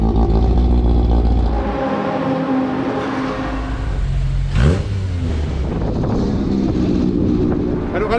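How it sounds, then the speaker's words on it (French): A 2003 Chevrolet Corvette C5 Z06 on the Magny-Cours race track, its engine droning loud and steady with shifting revs and wind buffeting, a brief whooshing pitch sweep midway. "tu roules en Corvette, C'est 5, Ah, Manico. Z06"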